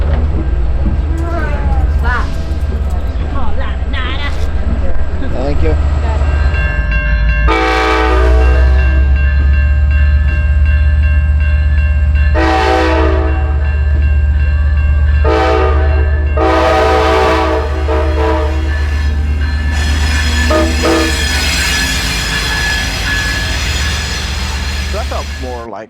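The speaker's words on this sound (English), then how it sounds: "Trains. Choo-choo." An Amtrak passenger train rumbles steadily close by while its horn sounds in several loud blasts of varying length, ending in one long sustained blare.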